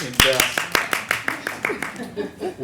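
People at a city council meeting clap a few times in a sparse, uneven rhythm, close and fairly loud, with talking heard alongside.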